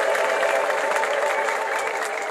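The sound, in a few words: congregation clapping and ululating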